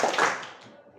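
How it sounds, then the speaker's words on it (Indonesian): A quick pair of claps from a group of people, short and fairly faint, fading fast. "Guru berkata, tepuk tangan 2 kali"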